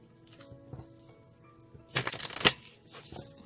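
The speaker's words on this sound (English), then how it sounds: "Another shuffle, they request." Tarot cards being shuffled, a burst of rapid riffling flutter and snapping near the middle after a quiet stretch of faint handling, close and fairly loud with no talking.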